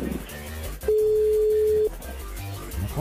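A steady single telephone tone holds for about a second in a call placed to a home landline, amid background chatter and room noise before and after.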